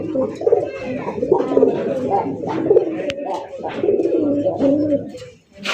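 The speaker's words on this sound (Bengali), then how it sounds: "এই দেখছেন ডাক, দেখছেন পাগলে কিন্তু প্রচুর পরিমাণে ডাকে।" Madrasi Golla fancy racer pigeons coo close by in a steady stream of soft, throaty, repeated calls that overlap and continue for several seconds.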